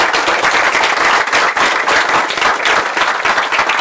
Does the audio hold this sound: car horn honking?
no